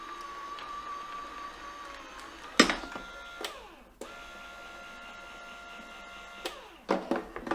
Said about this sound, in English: So we're going to run this through our Sizzix Big Shot Express.